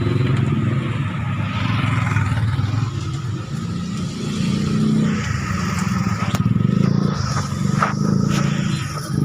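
The engine of a Keeway SIP 125 motorcycle, which is hard to start, runs close by with an uneven, fluctuating rumble and rough revving surges, joined by occasional scraping and handling noises.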